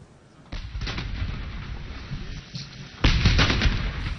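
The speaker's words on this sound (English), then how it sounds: "With these shots, Chad's army and people said farewell to their former leader, Idriss Deby." Army gun salute fired at the state funeral of Chad's president Idriss Deby: heavy booming rounds with rumbling echoes, one at the start and a louder one near the end, over outdoor crowd ambience.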